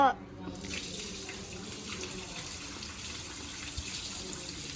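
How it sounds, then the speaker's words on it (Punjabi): Water drains from the tank of a new Usha air cooler in a steady, fairly loud gushing stream. It starts with a brief burst, then runs on evenly and close by. "ਤੁਹਾਨੂੰ ਦਿਖਾਉਂਦੇ ਆ ਆਪਾਂ ਦਾ ਪਾਣੀ ਕੱਢ ਕੇ ਦਿਖਾਉਂਦੇ ਆ"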